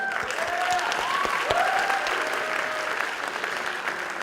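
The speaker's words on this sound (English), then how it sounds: "Clap for her." Audience applause at a high school talent show, steady clapping from a crowd held at an even level throughout, with some whistles and cheers rising above it.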